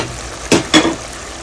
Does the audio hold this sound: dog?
no